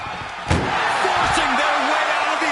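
A single loud ambulance door slam near the start, followed by a noisy, crowded din with a voice briefly audible.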